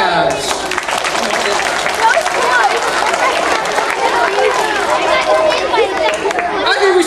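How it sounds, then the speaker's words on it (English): Elementary school audience clapping and cheering in a dense burst of applause mixed with children's excited chatter and shouts, loud and close, sustained for several seconds before fading. "if you like that, clap your hands"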